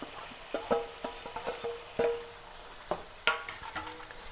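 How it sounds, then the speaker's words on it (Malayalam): Crushed onion sizzling in a pan, heard close and quiet as a soft hiss broken by irregular clinks and scrapes from stirring. "ഇനി ഇതിലേക്ക് ഉള്ളി ചതച്ചതാണ് ഇട്ട് കൊടുക്കുക."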